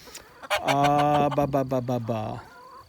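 A loud, drawn-out squawking call from a chicken or rooster on a farm with Americana roosters, Brahmas, Wyandottes and other breeds, close by and harsh, with speech faintly audible around it.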